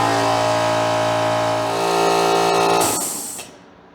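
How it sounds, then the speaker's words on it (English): An air compressor with a full tank runs on an Oupes Guardian 6000 power station, a loud steady motor drone with tonal hum that winds down and fades out after a few seconds. "Nothing's harder to start up than a compressor with a full tank."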